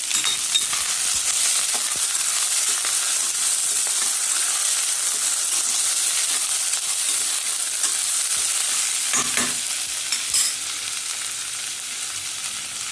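Chopped onions sauté and sizzle in a hot pan for a spicy pea and potato curry, giving a steady, bright frying hiss throughout, with a few brief clinks of stirring near the end.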